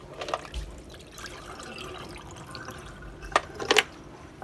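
Found coins and cleaning liquid dumped out of a container, with light splashes and a few sharp metallic clinks near the end, close and moderately loud.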